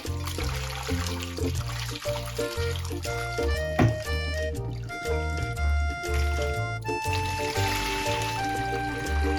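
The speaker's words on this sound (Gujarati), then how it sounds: "ચાલો હું હવે ધોઈ લઉં છું લીલા મરીને આવી રીતે ધોઈ લેવાના છે" Green peppercorns being washed and rubbed by hand in water, with sloshing, dripping and pouring sounds under background music and a voice.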